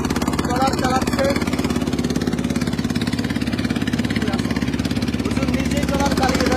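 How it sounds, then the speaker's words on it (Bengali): A trawler boat's engine runs at a steady, rhythmic chugging throb, loud and close, continuing unbroken throughout. "আপনারা দেখছেন, নিজেই ট্রলার চালাচ্ছেন"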